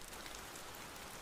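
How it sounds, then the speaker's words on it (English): Steady rain pouring down, a dense, even hiss of drops close by with no pauses or other sounds. "Rain falls harder, soaking his shirt within seconds."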